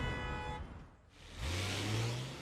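Cartoon morning traffic jam: a car engine hums and revs nearby, drops briefly, then swells again with a low rising drone, with no one talking.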